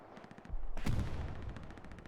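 Artillery fire in Hell Let Loose on the Utah Beach map: a heavy, sharp blast strikes after faint rapid gunfire, then a long rumbling decay lingers under continued distant shots.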